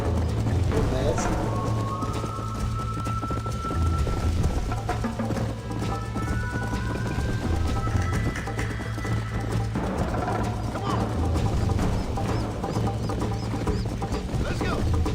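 Horse hooves clip-clop at a steady running pace in Red Dead Redemption, a continuous rhythmic patter over low game ambience and music, with no voice over it.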